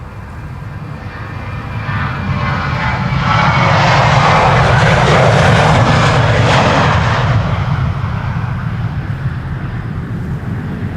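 A Boeing 777-300 jet roars past on the Polderbaan runway at Amsterdam Schiphol, its loud engine noise swelling to a peak midway and then easing off as it passes.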